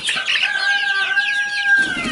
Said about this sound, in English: These are all a hybrid chicken that McMurray has and several other people have.